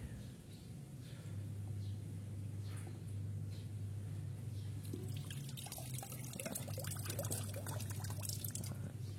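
Water pours and trickles steadily into a Suzuki GSX-S150 motorcycle radiator while refilling coolant, with a low engine-like hum underneath and the gurgle growing busier toward the end.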